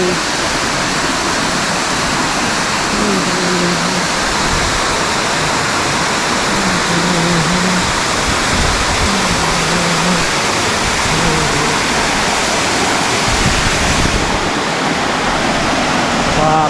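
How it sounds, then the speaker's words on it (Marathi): Loud, continuous roar of a waterfall near Asud village in Konkan, a thick wash of crashing water, with faint voices surfacing now and then beneath it. "जबरदस्त धबधबा आहे"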